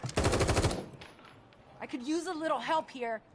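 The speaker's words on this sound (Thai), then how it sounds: "นั่นไงเสียงปืนข้างนอกแล้ว" A short rapid burst of machine-gun fire in The Evil Within 2 video game rattles out near the start, followed by quiet and then someone talking.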